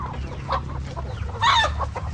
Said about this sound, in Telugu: కోళ్ళు పెంచుతుంది చూడండి నాటుకోళ్ళు